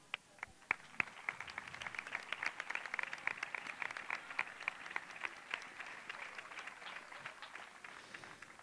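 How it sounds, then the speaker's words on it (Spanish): Applause from the crowd at a football club's team presentation in a municipal sports hall, a steady patter of many hands that is faint and distant throughout. "me gustaría que ese primer aplauso fuera para ellos de corazón"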